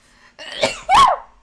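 A single close, sharp sneeze indoors with a short intake of breath and then an abrupt, loud burst.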